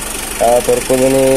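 A Mitsubishi L300 diesel engine from 2009 idles with a steady low rumble close by, heard beneath someone speaking over it.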